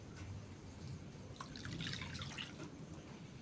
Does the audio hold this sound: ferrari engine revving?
no